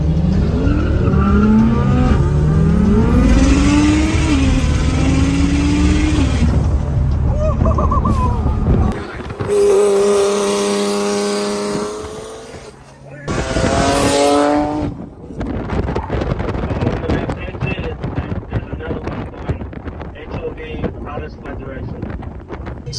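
Turbocharged BMW 335i racing an Infiniti on a highway, with loud engine revs rising and falling through gear changes, heavy wind buffeting, and short pauses where the noise drops before surging again.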